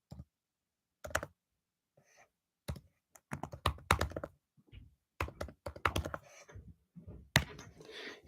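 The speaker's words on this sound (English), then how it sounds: "So I'll just type it again." Someone types on a computer keyboard in short bursts of quiet clicking keystrokes separated by pauses, close and clear, with no one talking.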